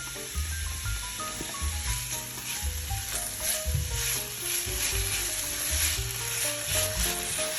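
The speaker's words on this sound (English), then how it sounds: "Gonna saute them and the onion." Diced garlic and onion sautéing in a cast iron pan give a steady, lively sizzle and hiss, with low thumps from stirring spaced through it, close and continuous with no talking.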